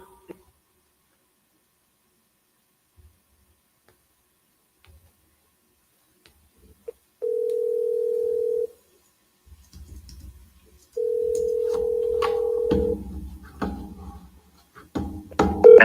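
An outgoing telephone call plays a ringback tone in two long, steady beeps separated by a pause, clear against near silence, with faint background noise and brief clicks around them.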